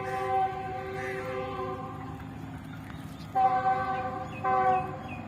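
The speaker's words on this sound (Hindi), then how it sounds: "रेलगाड़ी देख रहे हैं आप यहाँ पे" A Karachi–Multan passenger train rolls past just after leaving a station, a steady rumble carrying a sustained harmonic horn that swells twice near the end, heard outdoors beside a date palm orchard.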